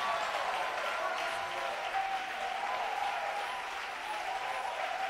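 A church congregation applauds continuously, a broad, steady wash of clapping from many hands that holds strong throughout, with a faint sustained tone running underneath.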